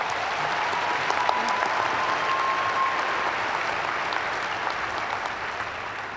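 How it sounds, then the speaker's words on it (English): A commencement audience gives a round of applause thanking the faculty, a thick, even roar of many hands clapping at once, steady and loud throughout. "Class of 2021, please join me with a round of applause thanking our faculty."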